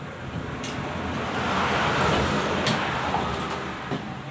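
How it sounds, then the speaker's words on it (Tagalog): Steady roar of many road vehicles passing nearby, a continuous broadband wash of traffic noise with a few brief louder swells as individual cars or buses go by, no talking. "Dami kasing sasakyan na dumadaan."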